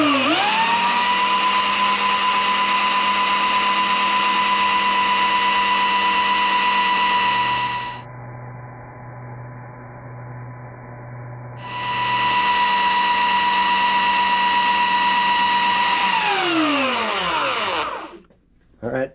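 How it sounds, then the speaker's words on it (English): A spinning sanding belt runs steadily against a rubber cleaning stick to clear clogged sandpaper, a loud sustained whine that dips briefly mid-way, resumes, then spins down at the end. "The belt is going to spin this way, so I'm going to hold this the opposite way and let it run against this thing and hopefully clear this right off."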